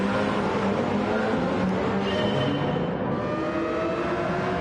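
Car engine in Gran Turismo 7 played on PSVR2, a steady, loud, continuous roar that holds at a constant level throughout with no talking.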